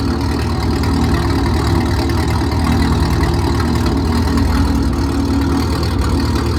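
Pontiac G8 V8 fitted with new headers and exhaust, running steadily at a loud, deep idle with a constant low rumble throughout and no speech.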